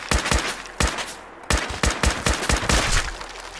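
Rapid bursts of gunfire from the Fallout 4 video game, loud and close, clustered volleys of shots with short gaps between them and no talking.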